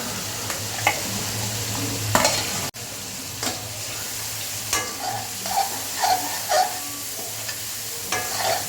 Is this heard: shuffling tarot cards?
no